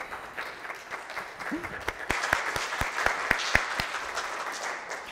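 Church congregation at a Sunday chapel service clapping in a steady rhythmic beat that grows louder partway through, with distinct sharp claps over a soft background murmur.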